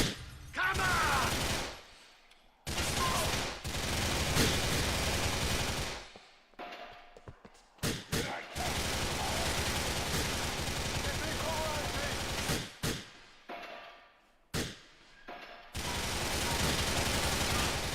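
Bursts of automatic gunfire from a shooting video game, loud sustained volleys broken by abrupt silent gaps, repeating over about eighteen seconds.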